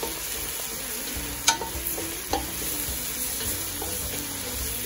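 Onions and potatoes fry in a pot with a steady, fairly quiet sizzle, broken by a couple of sharp stirring knocks near the start.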